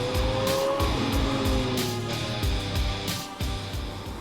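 A Lamborghini Aventador Roadster with a 6.5-litre V12 drives past loudly and close, with rising and falling engine notes, gear-change pulses and tyre noise, without speech.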